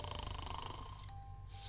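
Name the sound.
snoring in the video game Purrlock Holmes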